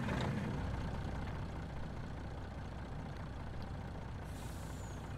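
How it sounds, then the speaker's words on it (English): A truck engine rumbles at a steady idle close by, a continuous low drone throughout, with a brief airy hiss near the end. "let's jump into the truck."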